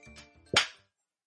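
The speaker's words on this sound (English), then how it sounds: "I didn't do the clap last time." A single sharp hand clap rings out after brief murmured talk, followed by silence.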